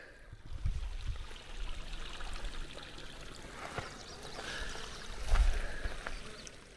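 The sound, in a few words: running water of a stream in a mountain hollow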